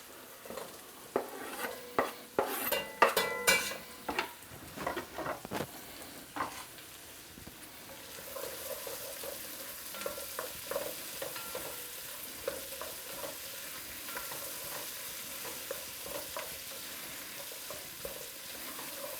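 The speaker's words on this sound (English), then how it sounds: "now I'm going to add the tomato" Tomato is stirred into onions and spicy chicken sizzling in a pan, with a spoon scraping and clacking against the pot in irregular bursts at first, then a steady, soft frying hiss.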